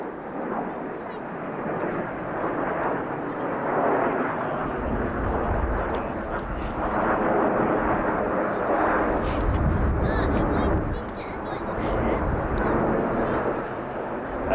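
Patrouille de France jets rolling past in Concorde formation at an airshow at RAF Abingdon, a continuous loud roaring engine rumble that swells and holds, with a commentator talking over it.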